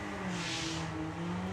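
Two Volkswagen Sportsman drag race cars at Bug Jam launching side by side, a loud rising engine roar with revving tones swelling together over a brief stretch.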